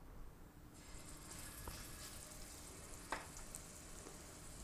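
Garlic paste sizzling in hot oil for a Chinese vegetable Manchow soup, a quiet steady frying hiss with a few faint clinks of stirring.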